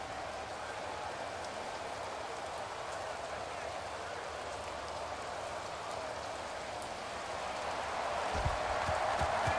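Rain falls steadily during an American football game between the Anchorage Snow Devils and the New York Mafia, a faint, constant hiss that grows a little louder toward the end, with a few low thumps.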